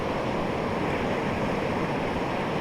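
Strong ocean waves and wind at sea, a loud, continuous roar of rough surf with gusting wind buffeting the microphone, no voices.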